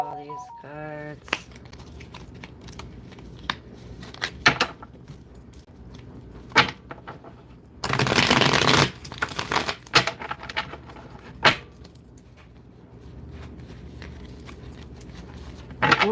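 Tarot cards handled and shuffled by hand, quick papery flicks and riffles in short bursts with a longer loud riffle partway through, close by, with occasional clacks and faint background noise.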